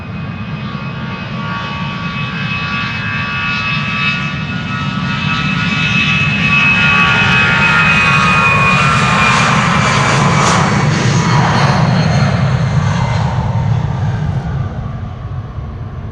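An SAS Airbus A320neo departs at Amsterdam Schiphol, its jet engines roaring steadily and loud throughout, swelling slightly toward the middle with a whining tone riding over the deep rumble, no talk.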